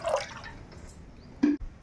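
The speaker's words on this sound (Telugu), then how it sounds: "స్టవ్ ముట్టించుకొని గిన్నె పెట్టుకొని వాటర్ అయితే ఒక 2 గ్లాసులకి వాటర్ పోసుకోవాలి" Water splashes into a cooking pot set on a stove, a short pour at the start and another brief gush later, with quiet gaps between.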